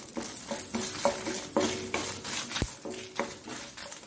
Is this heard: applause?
no